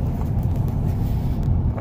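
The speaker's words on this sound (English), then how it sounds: "so we are in the truck right now" Inside a truck on the move on a cold, rainy day, a steady low engine and road rumble fills the cab, close and continuous, with no voices.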